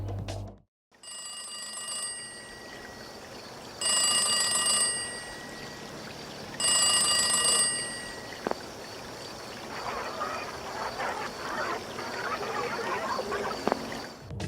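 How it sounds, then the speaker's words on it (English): Distorted ringing calls from phone booths in the Splatoon video game during Splatfest at Inkblot Art Academy: three bursts of ringing tones separated by quieter stretches, followed by faint garbled noise. "if you go near the phone booths on either side of mid and wait, you can hear distorted calls from within them"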